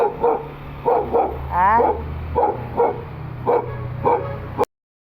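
A tethered dog tied to a post, surrounded by mosquitoes, barks and yips repeatedly in a steady rhythm close by, with a brief whimpering whine midway.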